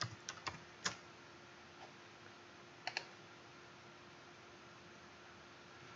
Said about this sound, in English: we simply type in what we want